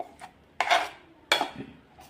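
Ground urad dal batter is scraped from a mixer jar into a bowl of idli batter, giving two distinct close scraping strokes against the container with faint taps between.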